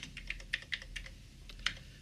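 Keys clack on a computer keyboard as someone types to converse with the ELIZA chat program, a quiet, irregular patter of close, crisp keystrokes with no voices.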